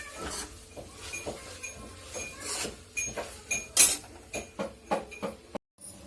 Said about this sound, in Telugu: గరం మసాలాకి కావాల్సిన చెక్క, లవంగాలు, సాజీరా ఇవన్నీ యాడ్ చేసేసుకొని గరం మసాలా దంచుకుందాం.